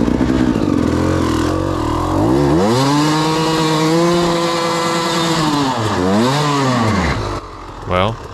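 A chainsaw runs loud and close, its engine pitch sweeping up and down as it revs and bogs over several seconds before dropping off, followed by a brief clatter.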